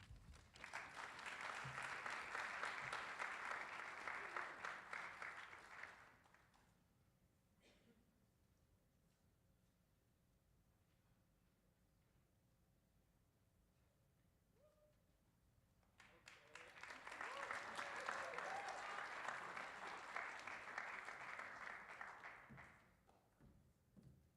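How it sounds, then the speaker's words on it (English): An audience claps at the 2025 Rev. Dr. Martin Luther King, Jr. Celebration at Tufts University. Two loud, sustained rounds of applause come about six and eight seconds long, separated by a quiet stretch of near silence. "I thought you were clapping because I successfully got up the stairs"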